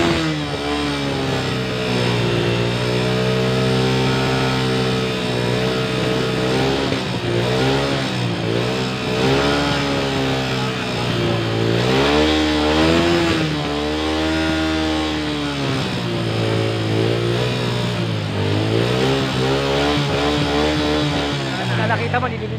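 TMX motorcycle engine, dirty and smoking, revved repeatedly during engine cleaning; loud, close buzzing engine with rising and falling revs in several surges, running continuously throughout.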